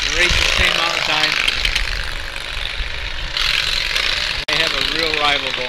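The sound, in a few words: racing lawn tractor engines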